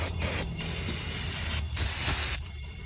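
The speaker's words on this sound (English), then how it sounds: "Hit them with the brake clean" Aerosol brake cleaner hisses onto a Hyundai Tucson's scuffed front brake pads in short, close bursts separated by brief pauses, with a low background hum beneath and no talking.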